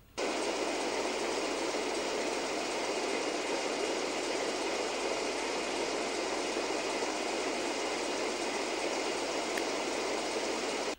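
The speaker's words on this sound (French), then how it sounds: "À la salle des machines, les deux moteurs tournent comme il se doit." Two boat engines running together in a barge's engine room, a steady loud broadband roar that holds constant throughout with no pauses.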